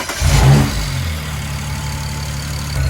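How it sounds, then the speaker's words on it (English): A tuned BMW 335i fitted with a carbon fiber intake starts up with a loud cranking catch and rev flare, then settles into a steady low idle drone. "Let's fire up the car and let's see what it sounds like."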